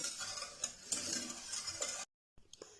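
Half a cup of sugar stirred into a pot for a lab-e-shireen dessert, a spoon scraping and swishing against the metal in close, busy strokes, with a brief silent gap before the stirring resumes.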